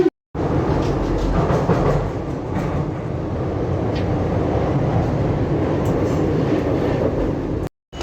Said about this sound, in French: je vous retrouve à la gare de l'Est dans quelques instants après une petite séquence RER